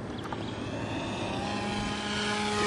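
A HobbyKing Extra 260 radio-controlled plane makes a full-throttle flyby, its steady propeller and motor drone building slightly louder as it passes, with no talk.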